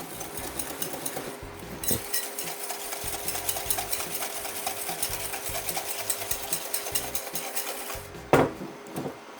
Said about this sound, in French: A l'aide d'un fouet, je blanchis l'ensemble.